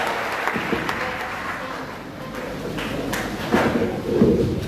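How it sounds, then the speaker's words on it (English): A church congregation gives a clap offering during a Tuesday evening service, dense sustained clapping with a few sharper knocks and thuds mixed in, loud and close. "celebrate the Lord with a clap offering"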